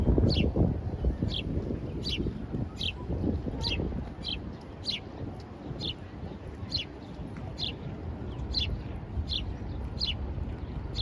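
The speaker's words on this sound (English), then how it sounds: "Hopefully you can hear the birds chirping." Birds chirp in repeated high bursts in New York's Central Park over a steady outdoor rumble of wind and distant noise, continuing throughout.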